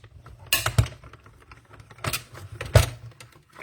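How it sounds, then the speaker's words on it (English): Die cutting machine pressing a die through a small paper tag, a few sharp mechanical clunks and clicks, close and fairly quiet, with no talking. "We're going to die cut the tag."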